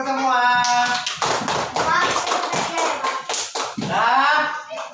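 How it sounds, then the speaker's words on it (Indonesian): A class of children in a school classroom claps hands in a quick, loud run of sharp close claps, with children's voices chanting before and after the clapping. "Oke, tepuk tangan dulu semua."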